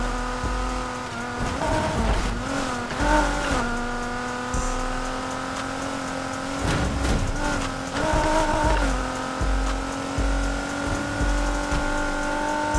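An Acura RSX races in Need for Speed Heat, its engine revving high and steady with repeated gear shifts and brief tire squeals, loud and close throughout.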